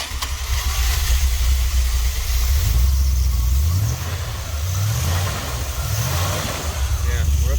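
A 1970s street van engine idles warm with a steady low rumble, its pitch wavering slightly as it settles, heard close with some background noise.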